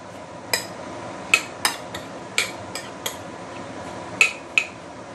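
A spoon clinks sharply against a bowl a handful of times while sauce made with sugar, lime juice and peanuts is mixed for a deep-fried black pomfret dish, the close, spaced taps heard alone over a faint background hiss.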